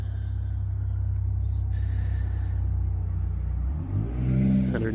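An SCX6 RC crawler with an FRD-6 transmission runs its motor at a steady, loud whining drone, then the pitch dips and climbs again near the end.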